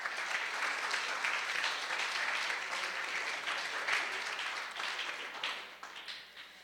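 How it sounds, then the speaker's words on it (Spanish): An audience applauds a lecture speaker at a history conference, a steady wash of clapping that fades and thins toward the end. "Le brindamos un fuerte aplauso."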